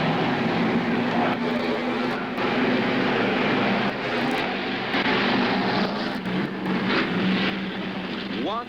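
Four Ford Mustangs race into a crisscross pattern in front of the grandstand at a 1965 stunt-driving show. Their engines make a loud, continuous roar that swells and shifts as they pass.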